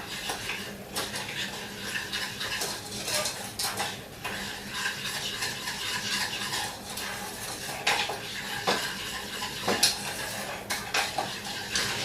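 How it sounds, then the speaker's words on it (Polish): Honey, butter and sugar being vigorously stirred in a bowl, a steady scraping and clinking of a utensil against the sides with occasional louder knocks, close and continuous. "miód dodamy i teraz intensywnie wszystko mieszamy"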